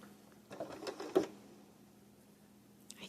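A sewing machine works a blanket stitch binding in a short burst of quick stitches, then goes mostly quiet with faint mechanical clicks near the end.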